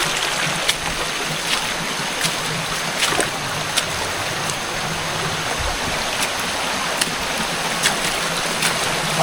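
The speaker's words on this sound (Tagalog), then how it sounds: "Ito yung falls." A small waterfall at a hidden resort in the Sierra Madre near Baler, Aurora, pours in a steady, broadband rush of water with no break, close and even throughout.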